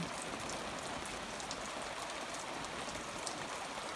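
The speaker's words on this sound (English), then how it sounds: "it's a light rain. Listen to the rhythm of the falling rain." Light, gentle rain falls steadily over a hayfield with new hay bales, a soft continuous patter of drops with a few brighter taps, no voices present.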